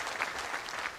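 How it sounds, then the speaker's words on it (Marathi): A crowd at a political rally claps steadily in a dense, continuous patter, moderately loud, heard on its own throughout. "पुन्हा एकदा आपण सर्वांनी टाळ्या वाजवून त्यांचं मनापासून या ठिकाणी"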